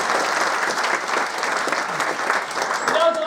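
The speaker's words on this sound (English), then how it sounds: "Give her a round of applause." An audience at a live variety show applauds a birthday guest, a short burst of steady clapping from a modest crowd, fairly close and even throughout.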